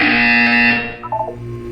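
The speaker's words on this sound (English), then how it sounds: "You will hear a buzzer." A loud, harsh electronic buzzer from the Portal 2 video game sounds as a steady, distorted tone for just under a second, then gives way to a few short, higher electronic blips.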